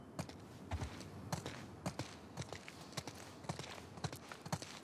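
Horse hooves clip-clop in The Last of Us Part 2, a quiet, irregular run of sharp taps and thuds at a faint level, with no voices.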